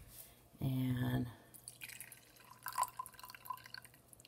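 Watermelon juice pours in a short thick stream into a small glass, then slows to scattered drips and trickles, close and fairly clear against a quiet room.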